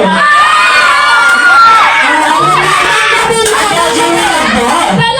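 Guests at a Thanksgiving party shout, whoop and cheer a team name, with many voices including children's. The loud, continuous crowd noise holds steady throughout.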